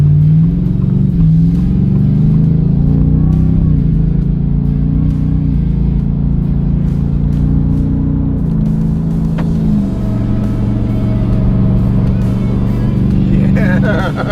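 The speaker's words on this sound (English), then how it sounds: "Squealing the tires already." A 2024 Ford Raptor R truck accelerates hard with a loud, close, deep engine rumble that rises and shifts in pitch, while people talk over it.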